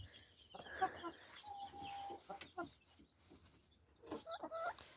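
A laying hen clucks in a poultry yard, several soft, irregular clucks and short squawks at close range, quiet overall with no speech.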